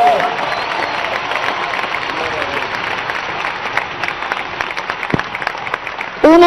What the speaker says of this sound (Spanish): Demos un aplauso para Jesús.